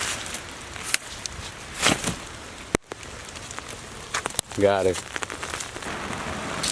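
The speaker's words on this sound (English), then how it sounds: "it's raining" Rain falls outdoors with a steady patter on surfaces, broken by a few sharp knocks, and someone speaks briefly over it.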